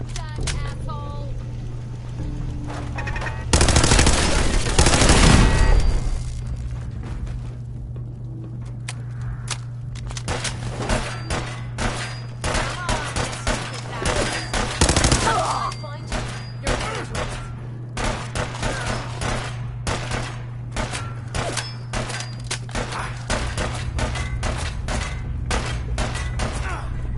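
Gunfire rattles through a Fallout 4 fight in bursts of sharp shots. A heavy burst comes early, then repeated cracks and thuds continue over a low hum, with occasional speech in between.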